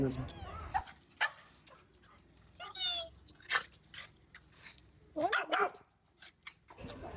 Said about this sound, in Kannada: ನೋಡುತ್ತಿದ್ದೀರಾ ನಮ್ಮ ಪುಟ್ಟ 3 ಪ್ರೀತಿಯ ನಾಯಿಮರಿಗಳು